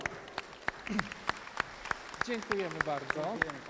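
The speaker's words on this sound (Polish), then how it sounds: "Wielkie brawa." Rhythmic clapping in unison from an audience at a town-days celebration in Radzyń Podlaski, with sharp, evenly spaced beats about three per second while someone speaks over it.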